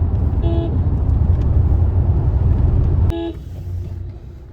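A car cruises along a widened highway on the route from Varanasi to Deoghar, its engine and road rumble loud and steady, with short horn toots from traffic before the noise abruptly drops away.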